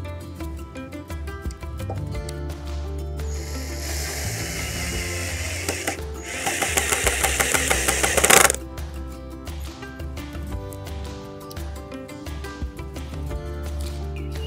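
A power drill drives screws while assembling a raised garden bed, whirring in bursts with mechanical clatter, rising to a loud, harsh grinding surge midway before dropping back to busy whirring.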